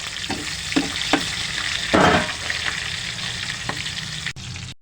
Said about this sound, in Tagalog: Saka gisa tayo ng sibuyas